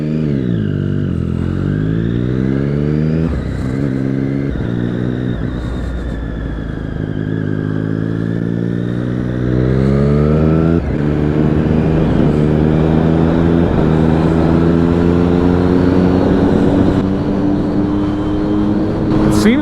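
A 2014 Triumph Street Triple R 675 motorcycle engine, loud and close while riding, revving up and down through the gears with rising and falling pitch and steady wind noise.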